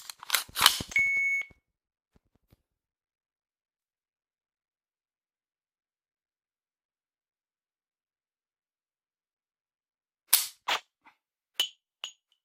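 An AR pistol with a laser training trigger dry-fires in a home session, a few sharp clicks and beeps at the start, then silence, then a few more clicks and short tones near the end.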